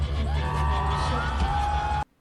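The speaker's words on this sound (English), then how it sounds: "And the crowd goes wild." A crowd cheering and whooping in a continuous loud burst for about two seconds, then cutting off abruptly into silence.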